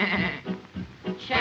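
A goat bleats in a 1946 musical number, giving a few wavering, nasal bleats in a quick series that sound close and fairly loud.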